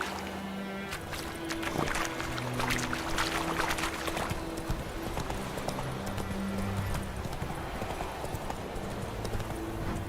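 Roach the horse trotting in The Witcher 3, hooves clip-clopping in a steady, even rhythm alongside soft musical tones and a faint background wash, with no talking over it.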